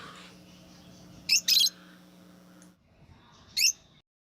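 Lovebirds giving short sharp chirps, a quick pair of calls then another single burst, close and distinct over a faint steady hum.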